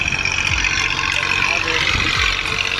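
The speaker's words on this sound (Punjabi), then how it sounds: "ਟਰੈਕਟਰ ਦੇ ਟਾਇਰ ਹੈਗੇ ਬਿਲਕੁਲ ਘੋਲੇ ਤੋਂ ਹੁਣੇ ਨਿਕਲਦਾ ਨਹੀਂ ਪਿਆ" A Massey Ferguson 260 tractor stuck in desert sand runs with a continuous low, rough engine drone, steady and fairly loud throughout, while people talk faintly in the background.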